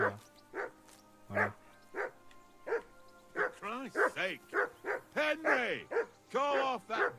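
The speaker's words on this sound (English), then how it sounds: "Henry, whistle at that mutt of yours to stop barking." A dog barks repeatedly in a video game, sharp yips and bow-wows in uneven bursts over a steady low hum, with whiny, whimper-like calls crowding in toward the end.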